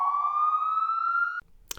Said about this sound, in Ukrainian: я там чую у тебе сирени